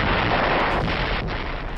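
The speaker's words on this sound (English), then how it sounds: "Heavy guns force the enemy lines to break at Anzio." Heavy artillery fires in World War II footage at Anzio, heard as a dense, roaring rumble of blasts that fills the whole short stretch with no clear gaps, old and muffled.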